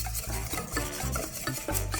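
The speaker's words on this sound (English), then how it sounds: "Stir it really quick" Homemade brownie batter is stirred quickly in a bowl, giving a brisk, rhythmic swishing and scraping with several rapid strokes close up. No one speaks.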